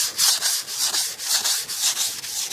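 Hand sanding the body of a 1988 Cadillac DeVille, a steady back-and-forth rasping of sandpaper in close rhythmic strokes, about five passes, loud and alone.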